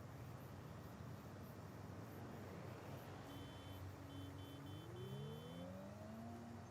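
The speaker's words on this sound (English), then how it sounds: "These cars sound like they're electric cars." Electric cars driving in the video game Renegade Nation, a steady whirring drone with a rising electric motor whine as a car speeds up, alongside faint high beeping tones over a constant background wash.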